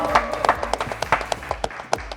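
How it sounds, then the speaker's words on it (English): A live audience applauds the makers and cast of a web series, giving a short burst of scattered, fairly close claps with a steady, uneven rhythm and no talk over it. "So can we have a huge round of applause for all the makers and the cast of the trip?"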